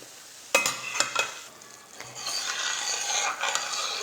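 Thick sugar syrup bubbles and sizzles steadily as it boils in a pan, with a few sharp clinks of a utensil against the pot early on.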